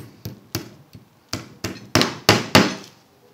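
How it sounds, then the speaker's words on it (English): A hammer drives a thumbtack into the corner of a picture frame in a frame shop. About nine sharp taps come in an uneven rhythm, close by, and grow louder toward the end. "hammer it in."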